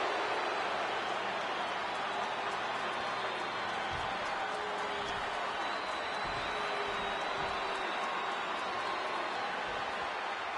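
A huge wrestling arena crowd of over 100,000 in WWE 2K26 roars in a dense, continuous wash of cheering, with a commentator's voice faintly underneath.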